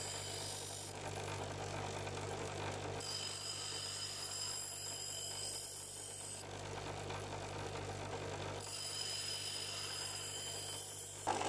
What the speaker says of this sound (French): Je taille une émouture un peu grossière sur le bord d'une meule.